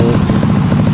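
Engine of a Honda Beat 150 scooter fitted with a CLD Racing New C3 oval aftermarket exhaust, a loud, steady, close-up throbbing drone that holds throughout with no talk.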